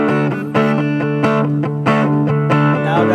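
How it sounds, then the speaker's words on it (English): A custom-built Stratocaster-style electric guitar inspired by the Red Special plays a sustained overdriven riff on the neck pickup with a little reverb, its repeated picked notes steady, loud and full, with no talking. "that's the usual tone that you get from the overdrive with just the neck"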